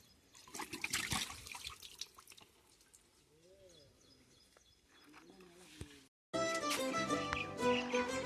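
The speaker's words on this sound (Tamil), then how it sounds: "கைஸ் இலையை நல்லா வாஷ் பண்ணி எடுத்துப்போம்." Leaves are washed by hand in water, with splashing and dripping that is louder at first and then gentler. Birds chirp faintly in the background, and louder sizzling or clattering comes in near the end.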